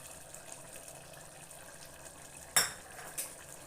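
Spoon stirring curd into half-cooked mushroom biryani in a pot. Two sharp metal clanks sound against the pot, faint and spaced apart, after a stretch of low kitchen noise.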